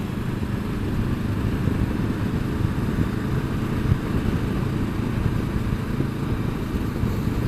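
A steady motorcycle engine drone while riding, constant and fairly loud, with rumbling low tones and road noise and no letup.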